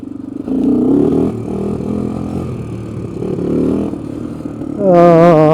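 A Honda 350X three-wheeler engine revving during a test ride, rising and falling through first and second gear, with a sharp, loud rev climbing at the end.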